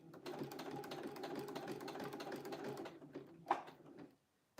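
A sewing machine stitches a quilt with small stitches, a dense, steady mechanical rattle running close for about four seconds before a brief knock and silence.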